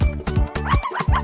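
Two puppies yip, bark and whimper in quick, close, loud bursts with short gaps, and no one talks over them.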